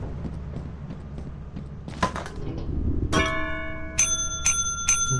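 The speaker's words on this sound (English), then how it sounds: "Noise of that bell." A bell in the video game Lethal Company rings several times in the second half, bright clear metallic strikes at a steady pace that ring on and decay, after a stretch of muffled game clatter with no talk.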